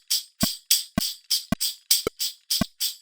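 A 100 BPM drum loop plays against a metronome click, the two out of sync: crisp, bright hits land alongside occasional deeper kick thumps, the pattern steady but misaligned.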